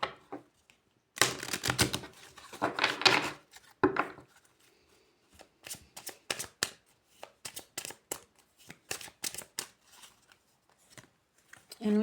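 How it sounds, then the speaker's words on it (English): Oracle cards are shuffled by hand in quick, uneven bursts of papery riffling and tapping, close up, with brief pauses between the shuffles. "One more shuffle."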